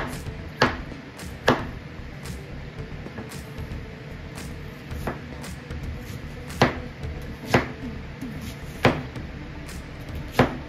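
Onions being rough-chopped with a knife on a cutting board, sharp isolated knocks at an uneven slow pace, about ten chops spread over a quiet kitchen background.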